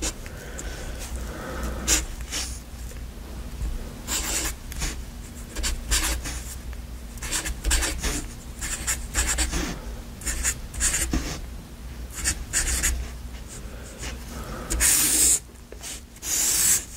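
A Sharpie marker scratches and squeaks across paper as a math chart is written out, with close, quiet strokes coming in short irregular bursts and pauses and no voice.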